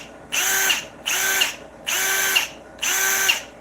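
A brushless cordless power drill runs in four short, even bursts of about half a second each, with a high whining motor and brief pauses between, loud and close.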